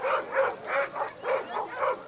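Search-and-rescue dog in rubble giving a steady series of five rhythmic, yelping barks with whimpering tones, moderately close and clear.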